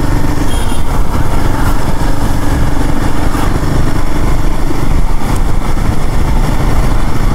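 A Royal Enfield Himalayan 450 motorcycle engine drones loudly and steadily during a test ride, close up and constant throughout, with wind rush over the rumble and no talk.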